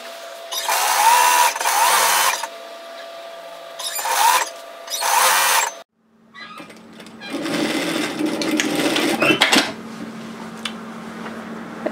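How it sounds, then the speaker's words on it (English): Serger overlocking along a fabric edge of a robe, several bursts of rapid, loud machine whirring that stop and start, followed by a longer continuous run. "Okay, so now we're going to serge tidy this edge"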